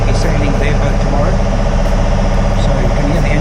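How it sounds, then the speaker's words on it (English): Engine of the sailboat SV Chantecler rumbling steadily at Cape Town, a constant low drone that stays under a voice speaking throughout. "so you can hear the engine in the background"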